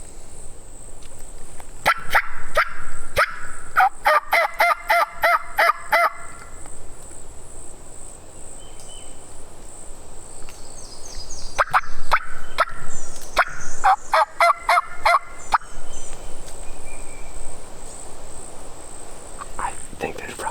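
Osceola wild turkeys gobble among Florida pines, several loud rattling bursts in two clusters that answer each other from the near distance. Insects hum steadily underneath, with no talk.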